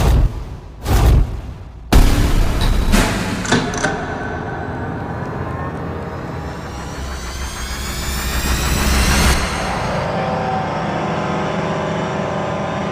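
A turbocharged high-performance engine run on a dyno with no intercooler: it cranks with short loud bursts, then holds a steady roaring pull that climbs in pitch, loud and close, then settles.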